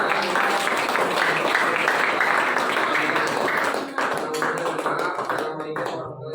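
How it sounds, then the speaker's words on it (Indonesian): A student audience at a classroom presentation applauds in a dense, sustained burst of clapping that slowly thins and softens toward the end. "kita kasih aplaus untuk"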